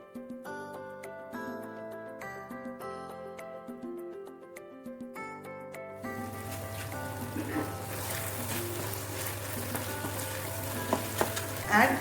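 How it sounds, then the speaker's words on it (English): Shrimp in lemon butter garlic sauce cooks and thickens in a pan. A steady broadband sizzle with a low hum enters about halfway through and continues under background music to the end. "Add the remaining sauce and cook till it thickens."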